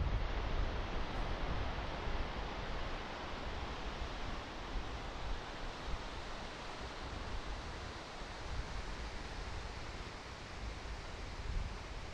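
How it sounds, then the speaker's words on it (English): Gullfoss waterfall in the Hvítá River canyon of southwest Iceland roars as a steady, dense broadband rush, loud and unbroken throughout with no voices. "Gullfoss is a waterfall located in the canyon of the Hvítá River in southwest Iceland."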